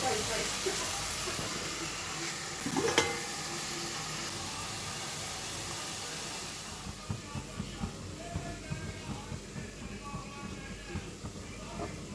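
Marinated chicken liver hits a hot pan with a loud, steady hiss of sizzling that later eases into softer crackling and bubbling, with a voice speaking over it.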